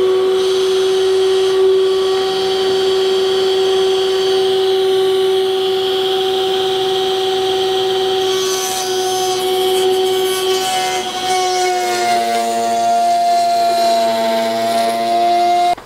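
A router cutting a dado through pallet wood and epoxy resin, a loud steady high-pitched whine held throughout that shifts in tone near the end as the bit meets the material.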